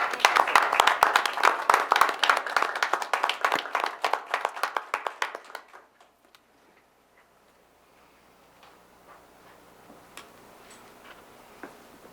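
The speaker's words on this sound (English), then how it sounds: "let's give them one more round of applause" Applause for teachers at a school board meeting, a room of hands clapping steadily for several seconds before it dies away into quiet room noise with faint movement.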